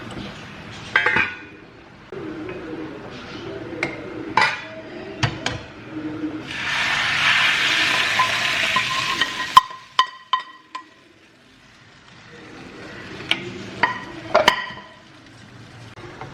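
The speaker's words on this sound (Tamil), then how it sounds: "இப்போ நம்மளோட தாளிப்பை நம்ம கார குழம்புல ஊற்றி மிக்ஸ் பண்ணிடலாம்." Hot tempering with dried red chillies and curry leaves poured into a drumstick-and-brinjal kara kuzhambu: a loud sustained sizzling hiss mid-clip, framed by clinks and scrapes of a metal spoon against the pot while mixing.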